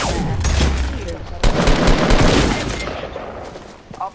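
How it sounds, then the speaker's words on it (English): Gunfire from the video game Fortnite crackles in a short burst of rapid shots, fairly loud, with a player's voice talking over the game sounds. "Gun went off again."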